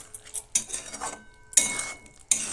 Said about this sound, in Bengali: গরম মশলাটা দিয়েও আমি ভালো করে মিশিয়ে নিচ্ছি